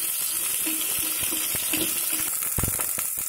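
Grated ginger, onions and green chillies fry in a pan, giving a steady close sizzle with soft clicks of stirring over it.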